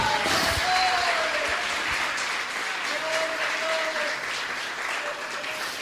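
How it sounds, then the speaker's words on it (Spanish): A church congregation applauds steadily during a worship service, a dense sustained clapping that fills the room throughout, with a few faint voices and a brief whistle-like tone rising above it. "Fuerte ese aplauso al Señor."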